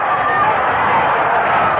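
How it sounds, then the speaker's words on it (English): A packed baseball stadium crowd at a 1976 National League playoff game between the Reds and Phillies swells in a steady, dense roar of excitement as Pete Rose comes to bat. "the crowd getting excited now about Pete Rose's appearance at the plate"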